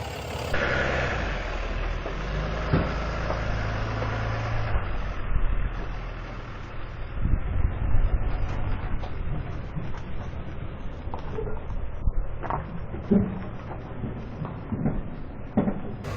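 A Bobcat T66 skid steer loader warms up outdoors with a continuous low diesel idle rumble, accompanied by intermittent clanks and rattles of straps and gear nearby over about sixteen seconds.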